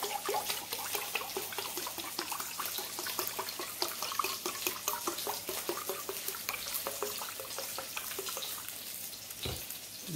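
Beef broth pours into a cooking pan, a steady trickling splash with faint sizzling crackles, heard close and fairly quiet for about ten seconds.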